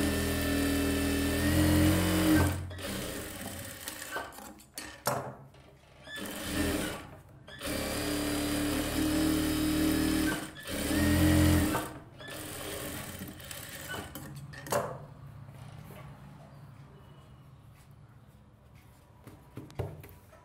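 Sewing machine stitching the lining of a silk skirt for a one-year-old baby, running in several bursts of steady whirring separated by short pauses, close and fairly loud, with no talk.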